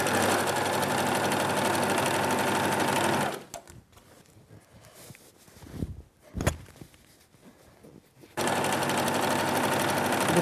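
A sewing machine stitches a curtain hem in steady loud runs, stopping for a few seconds of quieter handling and small knocks before starting up again at full speed.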